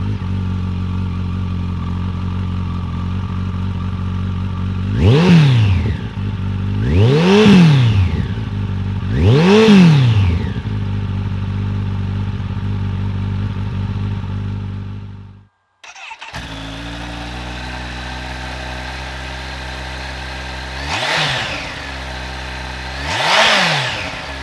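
Motorcycle engines idle, then rev sharply three times in quick succession; after a brief cut, a second bike idles and revs twice, loud and close. The bikes are a Kawasaki ZZR1400/ZX-14R and a Kawasaki Z H2.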